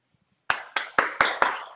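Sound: people clapping during online baking class

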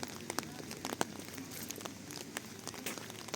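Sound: rain falling

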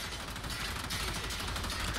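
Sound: enemy gunfire hitting Valkyr in Warframe video game

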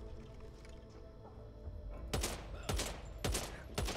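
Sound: gunfire in the video game Back 4 Blood

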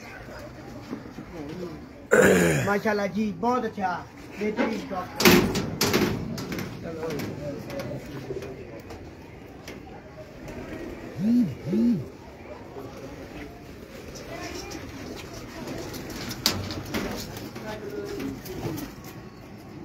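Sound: racing pigeons cooing

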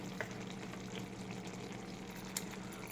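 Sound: korai mushroom frying in spices with yogurt stirred in

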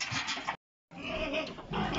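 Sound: thirsty cows mooing in a barn

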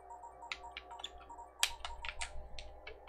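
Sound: typing on a computer keyboard during a livestream

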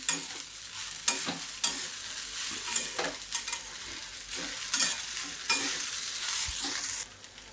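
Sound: stirring asafoetida tempering frying for poha

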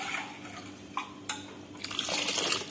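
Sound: water being poured into sambar pot

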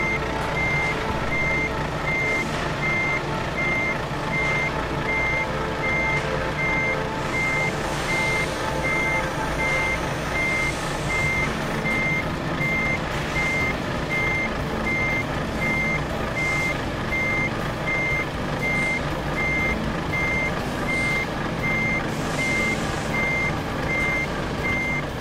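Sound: truck reversing beeps while parking, Euro Truck Simulator 2 video game

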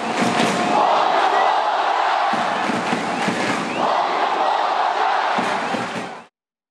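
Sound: football fans booing Ulsan coach Hong Myung-bo after a defeat

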